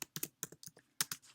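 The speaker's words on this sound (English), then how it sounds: "all I'm doing to go to the next line is I'm hitting the enter key or the return key on my" Keys on a computer keyboard are pressed in a quick, close series of crisp clicks, with short pauses between bursts and no talking.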